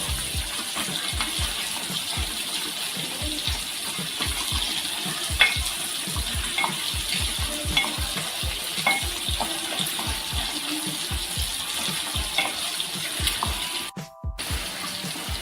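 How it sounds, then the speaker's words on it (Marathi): Masala spices sautéed in oil in a pan for a Maharashtrian rawas fish curry, steady sizzling with repeated scraping stir strokes close by. "हे मसाले आपण 1-2 मिनटं परतून घेऊया. हे बघा, छान तेल सुटलेलं आहे."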